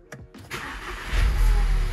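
A car's starter cranks briefly, then the engine catches and settles into a steady, close idle with a low rumble, no voices present.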